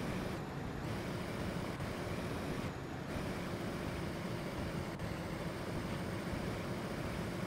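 A car drives in the video game DayZ, giving a steady engine drone and road rumble that holds at an even level with no talk over it.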